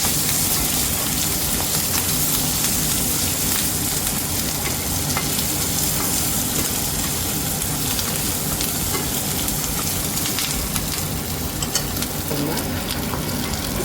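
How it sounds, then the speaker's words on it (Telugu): Green chillies fry in hot oil for atukula chuduva, a loud continuous close sizzle with occasional stirring scrapes throughout. "ఈ పచ్చిమిర్చి బాగా వేగాలి,"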